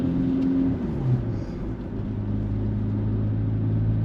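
A low, steady exhaust drone hums inside a moving car in fifth gear at 40, with a faint shift in pitch early on and road rumble underneath; no talking.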